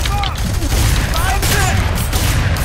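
Rapid, loud gunfire bursts in the F.E.A.R. 3 video game, with shotgun blasts in a chaotic firefight, overlapping booms and crackles packed tightly across a couple of seconds with voices in the mix.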